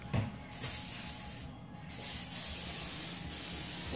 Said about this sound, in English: We'll spray it off the second pan.